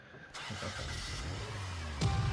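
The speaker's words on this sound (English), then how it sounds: "Car starting sound effect." A car engine cranks and catches, then settles into a steady low rumble, with a louder surge near the end as it revs.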